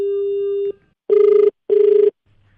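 A telephone rings with two short, loud electronic bursts separated by a brief pause, following a steady tone, with no voices over the rings.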